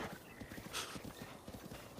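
Horse hooves clip-clopping in a steady, quick rhythm during horseback riding in the video game Breath of the Wild, moderately loud and continuous with a brief whinny-like burst partway through.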